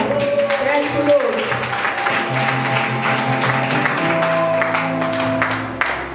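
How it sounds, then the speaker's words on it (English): A church congregation claps along in a fast steady rhythm of sharp, fairly close hand claps, with voices and sustained tones carrying underneath. "Clap for Jesus."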